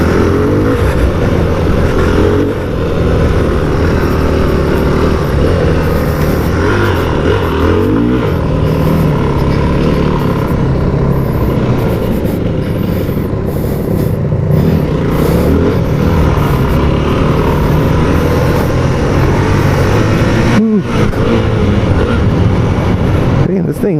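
A Yamaha WR250F dirt bike engine drones and revs continuously while being ridden, mixed with wind noise under a rider talking.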